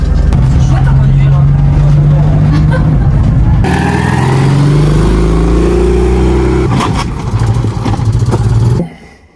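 Engine of a 1984 Citroën Acadiane running while driving, a steady low droning hum that shifts in pitch as the small engine changes speed, loud and continuous before cutting off near the end.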